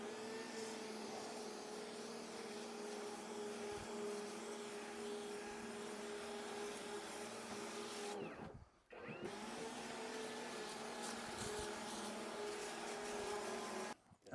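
An Ego backpack sprayer runs steadily while applying seaweed foliage feed to garden plants, a constant motor whir with a brief interruption midway, otherwise uniform and fairly close.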